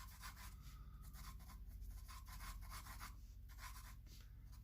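A pencil sketches lines on paper while a cube with shadow is drawn, giving a steady, close scratchy rubbing in repeated short strokes, alone with no talking.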